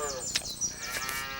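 Cattle on a farm mooing, a sustained, fairly loud low lowing call with a steady harmonic tone and no speech.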